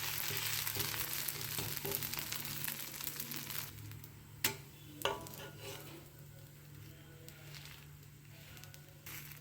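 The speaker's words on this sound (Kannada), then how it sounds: "ಇವಾಗ ಮತ್ತೊಂದು ದೋಸೆ ಹಾಕ್ತಾ ಇದ್ದೀನಿ" Dosa batter sizzling on a hot pan for a crisp breakfast dosa, a steady low frying hiss with a couple of sharp clicks of utensils against the pan partway through.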